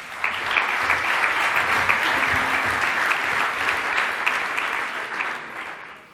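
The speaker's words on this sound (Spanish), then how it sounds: "Un aplauso para él." An audience at a talk in Bilbao applauds a speaker steadily for several seconds, a dense, sustained patter of clapping that tapers off slightly at the end.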